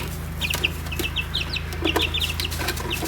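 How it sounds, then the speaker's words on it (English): Young chicks hatched in a brooder cheep in quick, high chirps, several birds peeping close together over a low steady hum, with occasional soft clucks. "we've got a few chicks that we hatched in a brooder."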